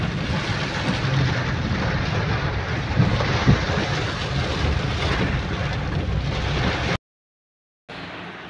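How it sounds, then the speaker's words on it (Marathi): Steady, dense rain noise fills the air without a break, heavy and constant, then cuts out briefly near the end before resuming. "तिथं असा पाऊस चालू आहे बाहेर."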